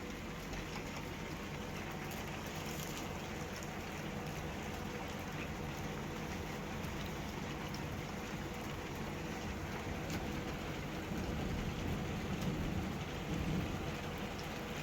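Heavy winter rain drums steadily on an RV, a dense, continuous hiss with low rumbles of thunder rolling underneath and swelling toward the end, no voices.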